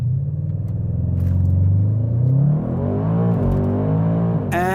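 A tuned 1001-horsepower MTM Audi RS6 launches hard from a standstill, its engine roaring loud and close as it climbs steadily through the revs, with a brief dip at a gear change before pulling on.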